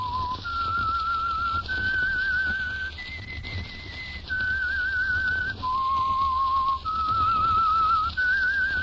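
A clear, shrill whistled theme tune from a 1947 radio drama, held notes stepping up and down in pitch over a low steady hum, no talking.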